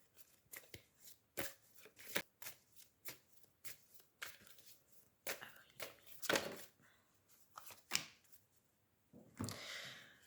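Tarot cards are shuffled and tapped in a quiet room, a series of short, crisp riffling and slapping bursts with brief pauses between, close and fairly soft.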